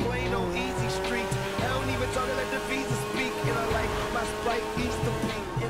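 A lifted 2019 Ram truck in a roleplay driving game roars continuously at high speed, its engine tone steady and loud, with faint tire noise and scattered background sounds throughout.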